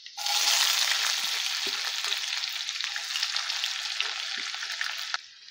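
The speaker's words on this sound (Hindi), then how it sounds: "पियाज को हाई फ्लेम रे गोल्डन ब्राउन पर्यंत फ्राई करवा।" Onions frying on a high flame in hot oil for dhaba-style chicken bharta, a steady loud sizzle lasting throughout, with an occasional stir or scrape of the pan and no talking.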